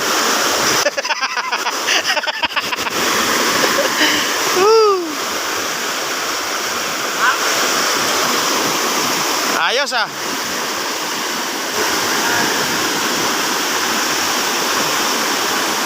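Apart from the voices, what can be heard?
rushing flood water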